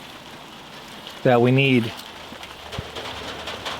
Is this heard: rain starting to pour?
yes